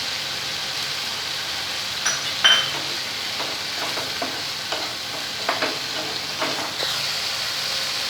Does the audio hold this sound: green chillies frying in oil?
yes